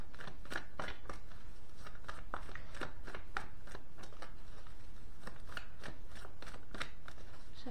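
Oracle cards being shuffled and drawn, a steady run of crisp flicking and riffling slaps, close and fairly quiet, with no speech.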